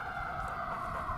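A steady, wailing siren tone holds throughout, fairly faint and distant, with no voices over it.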